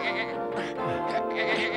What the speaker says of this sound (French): J'entends un bêlement, ça m'a l'air de venir d'une de ces boules, non?